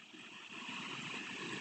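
Steady broadband rush of a forest waterfall, continuous and moderately close, with no voices over it.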